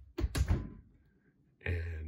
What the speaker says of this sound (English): So we'll close that door, senses the door is closed